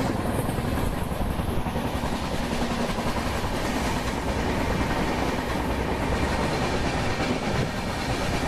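The 12218 Sampark Kranti Express rolls past while overtaking the 12460 Amritsar-New Delhi Express, a loud, continuous, close rumble of wheels and rushing air with a steady rattle throughout.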